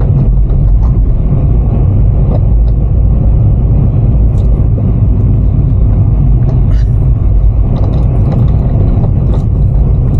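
Cars and other road vehicles in city street traffic, a steady loud rumble of engines and tyres close by throughout, with a faint voice in the background.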